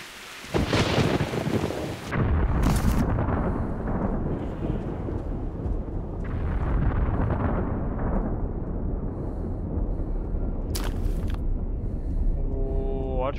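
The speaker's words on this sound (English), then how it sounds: "Watch with the thunder." Deep rolling thunder from the video game Metro Last Light Redux rumbles loudly with rain-like noise, swelling in several heavy waves over a dense storm bed.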